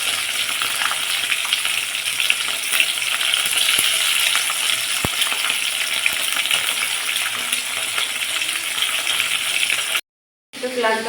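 Small fish frying in hot oil in a pan, a steady, dense crackling sizzle held loud and close for about ten seconds, with a few sharp pops, then a sudden brief silence before the sizzle resumes.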